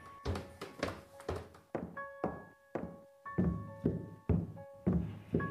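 Loose, creaking wooden stairs in the horror game Stepmother, with a steady sequence of heavy hollow thunks as footsteps climb, each step clearly separated, close and fairly loud against ringing tonal game sounds.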